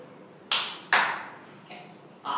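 A classroom of children claps in a few separate bursts, the first two loud and sharp, the later ones softer, with quiet gaps between.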